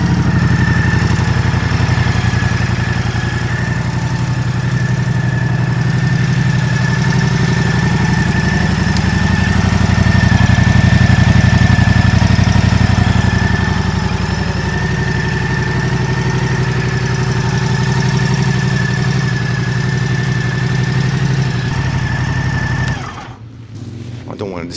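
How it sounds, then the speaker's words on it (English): A 2025 Moto Guzzi Stelvio motorcycle engine idles steadily after start-up, a loud close continuous rumble with a faint rise in the middle, cutting off abruptly near the end. "Let's put it in neutral and start it up."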